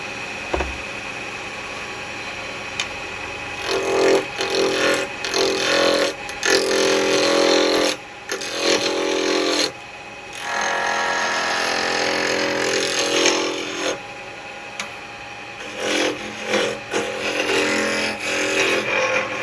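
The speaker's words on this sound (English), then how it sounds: "this is spindle, so it's going to be spindle roughing gouge" Wood lathe spinning a spindle blank while a spindle roughing gouge cuts it, making a steady broadband rushing hiss with intermittent louder bursts of cutting and short pauses, close and continuous with no talking.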